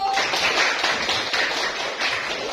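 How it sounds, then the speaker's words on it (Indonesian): Classroom clapping for group 1 after a student performance, a steady, fairly loud patter of many hands from the class, with faint voices underneath. "Kasih tepuk tangan dulu"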